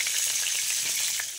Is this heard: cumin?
yes